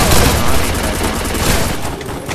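Rapid bursts of gunfire fill a Free Fire battle royale match, a dense, loud fusillade of shots from a nearby fight running continuously with no talk over it.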